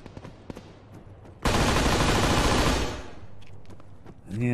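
Gunfire in the Arma 3 military shooter game, a loud sustained burst of automatic fire lasting over a second, preceded and followed by quieter scattered shots and distant crackles.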